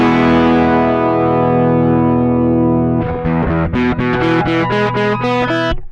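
Electric guitar run through a Spicetone 6Appeal hexaphonic fuzz pedal at reduced drive: a long sustained fuzzy chord rings out alone, then a quick series of distorted picked notes and chord stabs follows, loud and close.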